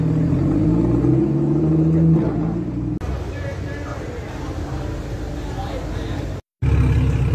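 A Nissan GT-R supercar leaving a Toronto car show gives a loud, close engine roar and rumble lasting several seconds, with a brief cut near the end, and excited voices talk over it.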